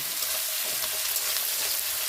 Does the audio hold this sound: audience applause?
no